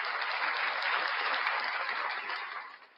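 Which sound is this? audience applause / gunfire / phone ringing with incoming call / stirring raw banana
audience applause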